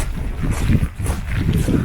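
Strong gusty wind in wet, rainy weather in the Scottish Highlands buffets the microphone with a steady low roar, rising and falling in surges throughout.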